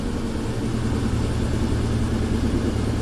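A rough-running, smoking Ford Ranger pickup engine revving, a steady loud mechanical drone with low rumble throughout and no voices.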